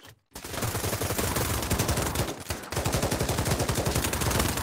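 Automatic-sounding gunfire from the Oculus Quest 2 VR shooter Pavlov Shack, with dense, rapid shots rattling continuously and loudly after a brief silence, pausing once before the burst resumes.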